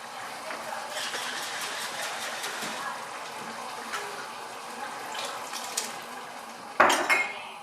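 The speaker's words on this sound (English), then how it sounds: "Little bit of water, top on, rinse into the sauce." Water sloshes inside a tomato container in a kitchen as it is rinsed out into a pot of ragu sauce, with soft clinks of metal and cookware and a louder clatter near the end.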